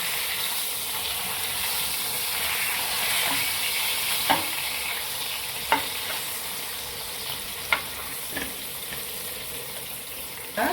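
Pomfret fish coated in semolina shallow-frying in a pan, giving a loud continuous sizzle close by with a few sharp clicks and taps from turning or handling the fish.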